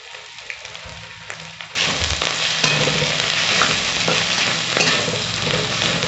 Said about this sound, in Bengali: আদা রসুন কাঁচা লঙ্কা পেস্টটা দেওয়ার পর আমি হলুদ গুঁড়ো আর কাশ্মীরি লঙ্কা গুঁড়োটা দিয়ে দিলাম।